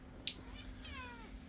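A pet house cat gives a couple of short meows indoors, soft and nearby, with a low steady hum underneath.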